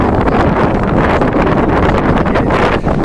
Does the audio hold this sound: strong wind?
yes